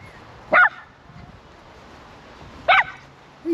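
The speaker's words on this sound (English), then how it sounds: "What are you yapping at?" A dog yaps in an expansive park area, two short sharp bursts about two seconds apart with a third starting at the end, fairly close over quiet outdoor background.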